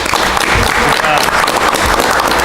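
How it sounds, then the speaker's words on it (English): Audience applause fills a village board meeting room, a dense, loud wash of clapping lasting a couple of seconds with faint voices mixed in. "So you should really give them a round of applause for that."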